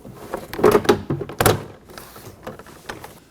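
A Nissan Maxima interior door panel is mounted and latched onto the door, giving a few close plastic thunks and clicks. These are followed by quieter rustling handling noises.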